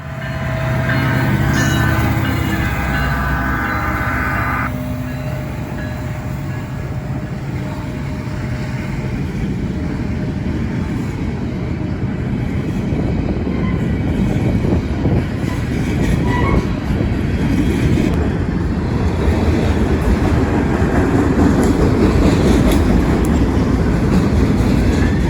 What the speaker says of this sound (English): Here, passing that freight house at West Main Street, is eastbound 178. On this day, led by a solo SD70 ACE